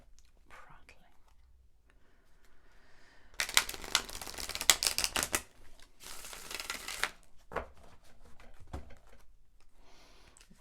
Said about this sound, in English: So let's give these a proper shuffle.